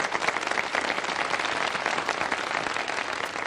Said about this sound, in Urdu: چاروں مقررین کے لیے ذرا بھرپور انداز میں تالیاں بجا دیجیے